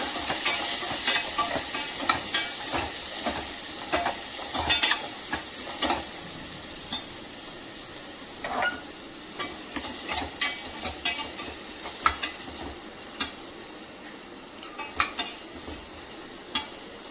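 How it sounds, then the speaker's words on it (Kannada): Onions sizzling in a pan while cooking a green gram palya, a steady frying hiss broken by frequent scraping stirs of a spoon against the pan, close and clear with no voices. "ನಂತರ ಸ್ವಲ್ಪ ಈರುಳ್ಳಿನ ಕೆಂಪಾಗುವವರೆಗೆ ಬೇಯಿಸ್ಕೊಳ್ಳೋಣ"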